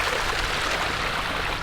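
A large designed waterfall at a home pours into water, a dense, steady roar of broadband rushing that fills everything, close and constant without pauses.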